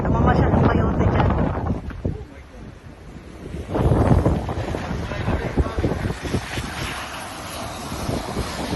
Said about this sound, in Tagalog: May bagyo pa rin till tonight.